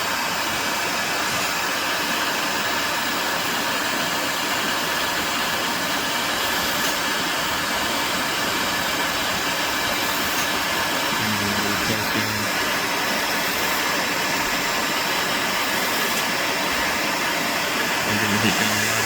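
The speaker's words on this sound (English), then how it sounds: "Heat gun, about 10 centimeters away." A heat gun blows a steady, loud rushing hiss from about 10 centimeters above an aluminium LED board to melt the solder. It runs unbroken throughout, with faint talk underneath.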